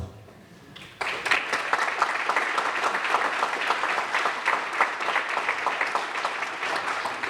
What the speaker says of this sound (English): for that you should be applauded